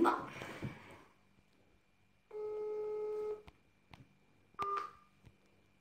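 A phone call attempt: a short burst of handset noise, then a sustained electronic tone, a few faint clicks and a brief second tone, all quiet and close with no talk.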